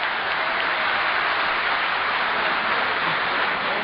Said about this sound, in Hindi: तालियों से नवाजें शायर को।